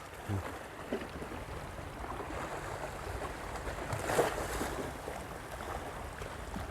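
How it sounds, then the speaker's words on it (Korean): Sea waves wash continuously against a rocky shore at a flounder lure-fishing spot, a steady broadband surf noise with a brief louder swell near the middle, no speech. "파도 때리지 마라."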